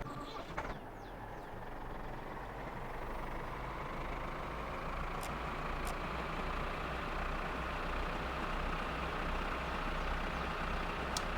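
Tractor engine in the video game My Summer Car running steadily, a loud continuous low rumble with a constant drone throughout, near and without talk.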